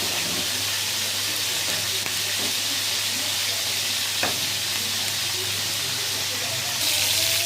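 Onions frying in oil in a pan for chicken biryani, a continuous close sizzle with light stirring, steady and unbroken with no talk over it.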